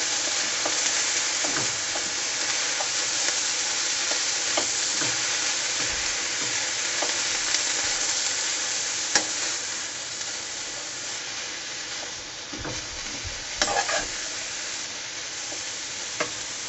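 Yam with sweet corn stir-fries in a pan, a steady close hissing sizzle with occasional scrapes and clacks of stirring, no one talking.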